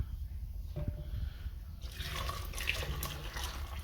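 Leftover tomato liquid, strained from pulp, skins and seeds, pours into a pot for fresh tomato soup, giving a steady close splashing trickle that grows fuller and brighter midway through.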